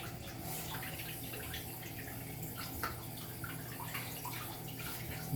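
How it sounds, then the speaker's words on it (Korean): Water splashes and trickles steadily as a child washes their feet, a continuous close wash sound with small drips and no talking. "이제 씻어 열심히 씻어 발 씻어"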